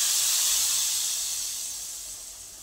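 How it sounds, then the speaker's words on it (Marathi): Kashmiri red chilli hits hot oil for a tadka in a pan of spinach, pea and potato bhaji, giving a loud, close, bright sizzling hiss that fades gradually over a few seconds. "छान असा तडका द्यायचा आपल्याला वरतून"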